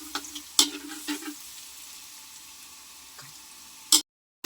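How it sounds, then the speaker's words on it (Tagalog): Garlic frying in hot cooking oil in a pan, a faint steady sizzle with a few sharp utensil clinks and stirring scrapes over it, ending abruptly. "Pag mainit ng mantika, ilagay ang kalahating bawang para ma-golden brown natin."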